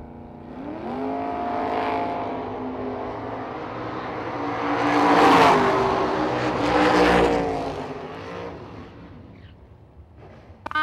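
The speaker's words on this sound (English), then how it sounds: "Swio dial 572 in the Capri. Cool little car over there in the left lane." Ford Capri race car on a drag strip, a loud harmonic engine note rising as it revs and launches, swelling to a roaring peak midway before fading into the distance.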